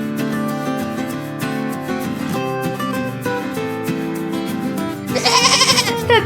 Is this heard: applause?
no